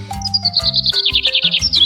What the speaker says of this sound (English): he could hear all sorts of sounds: soft, rumbling roars, happy chirps